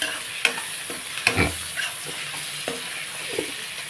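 Onion and tomato pieces sizzle steadily in a pan while a utensil stirs them, giving a few distinct scraping knocks against the metal over a constant frying hiss, fairly quiet and close.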